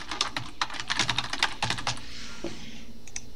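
Quick bursts of keystrokes on a computer keyboard, close and crisp, tap out email addresses in short irregular runs before trailing off into quiet.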